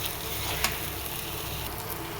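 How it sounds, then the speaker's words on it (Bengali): Chicken sautéing in a pan with ground turmeric, chili, coriander, cumin and salt gives a steady, soft sizzle with one brief clink near the start, fairly quiet and without voices. "সব মশলা দিয়ে কষাচ্ছি।"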